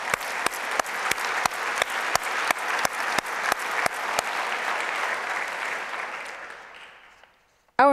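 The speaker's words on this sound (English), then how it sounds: "And that deserves another round of applause." An audience at a university convocation gives a steady round of applause, with a few sharp rhythmic claps standing out over the crowd, fading away to near silence before a brief sound at the very end.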